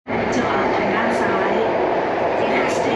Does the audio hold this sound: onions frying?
no